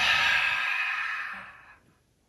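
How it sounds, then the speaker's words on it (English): A long, breathy exhale through the mouth, close and soft, fading out into quiet after about two seconds. "Exhale through the mouth."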